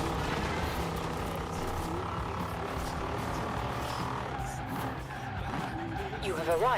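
Car engine sounds from the Forza Horizon 4 racing game, an odd off-roading car droning and whining steadily with rising tonal sweeps near the end, loud and continuous with game noise mixed in.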